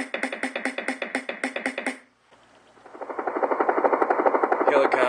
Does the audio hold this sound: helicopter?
yes